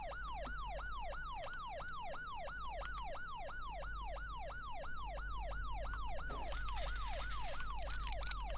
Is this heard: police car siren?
yes